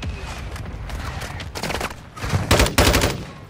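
Automatic gunfire in the video game Call of Duty Warzone, with several loud bursts of rapid shots growing heavier toward the end and no talk over them.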